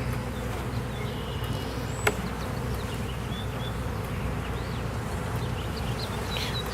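Agitated honeybees swarm around an opened backyard hive, giving a dense, steady buzzing that fills the whole stretch, with one sharp click partway through.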